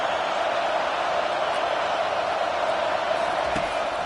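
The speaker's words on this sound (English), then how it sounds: "This crowd bringing the energy and noise early." A dense, constant roar of a large stadium crowd at an LSU vs Oklahoma football game fills the space, steady and loud throughout with no distinct voices standing out.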